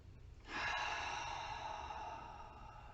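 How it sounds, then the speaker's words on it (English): A single long, deep exhale during seated chair yoga, starting with a sudden rush of breath and then fading slowly as a soft, close, breathy hiss, with no talking. "take some deep breaths as you go"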